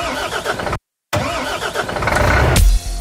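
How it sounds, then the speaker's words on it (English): A car engine cranks and fires up, with a brief dropout before the motor catches and settles into a loud, rumbling idle, set within a music track. "start the engine, Lipsy"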